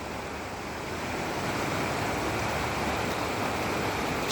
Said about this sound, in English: The runoff, spring runoff is started.